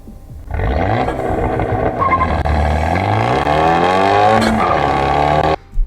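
A tuned Fiat 124 Spider launches under launch control and accelerates hard, its engine roaring loud and close as the revs climb through successive gear shifts before cutting off abruptly.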